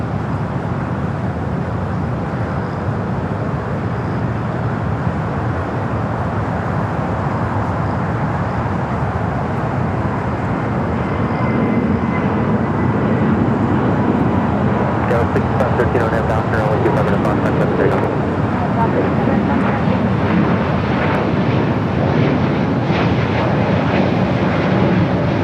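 An airplane takes off at LAX with a loud, sustained jet roar that holds steady and swells slightly toward the end.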